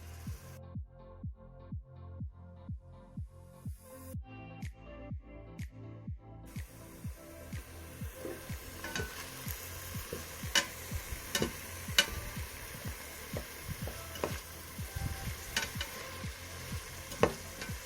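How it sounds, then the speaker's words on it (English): Food sizzles and crackles steadily in a hot pan, with stirring clicks early on and the sizzle growing busier and louder. "You can hear them starting to simmer."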